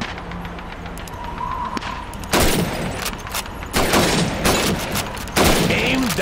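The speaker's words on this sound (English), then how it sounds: "Shoot those bottles and plates." Rifle shots at a shooting range in Call of Duty 2, set in Red Army training: three loud, sharp cracks at irregular intervals, with voices speaking between them.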